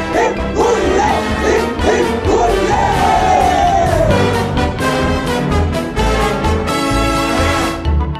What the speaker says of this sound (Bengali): বলো three cheers for Tunu, hip hip hurray